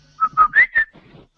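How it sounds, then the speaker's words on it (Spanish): A person whistles four short, bright notes in quick succession, the third sliding upward, heard close and clear over a quiet room with no talking. "¿Quién está silbando?"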